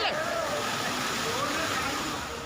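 Fast floodwater surges down a street where a scooter is swept along, a loud continuous broadband rush with churning slosh close by, likely with voices under it.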